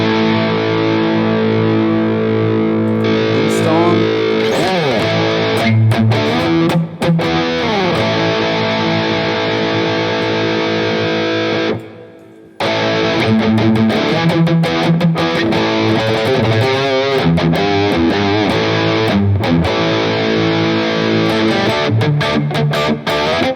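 High-gain electric guitar played through the VH4 amp model on an Axe-Fx III with a mid boost, loud and distorted with sustained chords and riffs, briefly cutting to silence near the middle before resuming.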